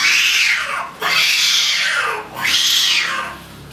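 A voice imitates a cat meowing: three drawn-out, whining meows in a row, each rising and falling in pitch, close and fairly loud.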